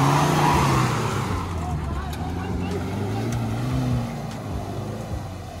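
A Mahindra Thar SUV pulls out of deep sand off-road, its engine droning steadily and loudly throughout with shifting revs, close by, while people talk over it.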